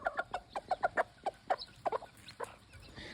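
Free-range gamefowl hens cluck in a quick series of short, sharp calls, fairly close and moderately loud, thinning out toward the end over faint outdoor background.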